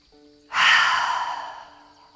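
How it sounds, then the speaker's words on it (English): A single forceful breath is pushed out through the mouth during a yoga flow, a loud close rush of air that fades over about a second and a half. "Exhale out the mouth, release nice and forcefully."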